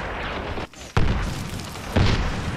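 Grenade blast in the Medal of Honor Warfighter multiplayer beta: a dull boom lands near 1 s after a brief hush, with a second heavy burst near 2 s amid constant loud battle noise.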